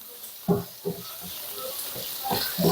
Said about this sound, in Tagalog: gusto ko talaga na napiprito yung ano, karne